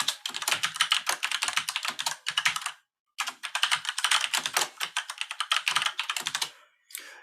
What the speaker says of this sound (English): I'm going to keep typing here.